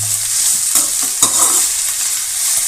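Poori potato curry sautéing in a pan makes a close, steady sizzle, broken by a few sharp knocks and scrapes of a stirring spoon.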